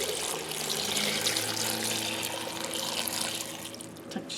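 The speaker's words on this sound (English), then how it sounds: "And I'm going to add enough water to cover them." Tap water runs steadily into a container of pickles being prepared, a continuous close rushing and splashing with a faint hum underneath and no talking.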